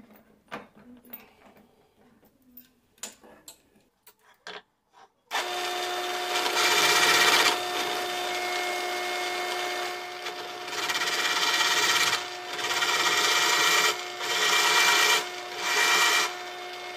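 A larger drill bit countersinks a screw hole. Soft handling noises come first, then a loud, continuous whirring grind that rises and dips in intensity to the end.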